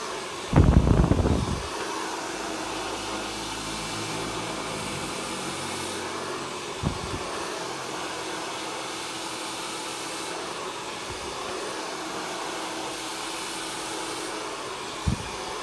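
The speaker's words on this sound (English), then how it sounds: "Get your hairdryer. I'm going to go down the hair again." A hair dryer blows steadily through a home blow-dry of hair, a continuous close whooshing roar that runs the whole time, opened by a brief loud bump and broken only by faint handling knocks.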